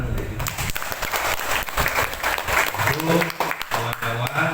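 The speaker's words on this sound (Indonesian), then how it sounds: "Tepuk tangan untuk itu." Audience applause fills a training event for tour guides at Ciletuh Geopark, a steady broadband clatter of many hands running throughout with talk mixed in.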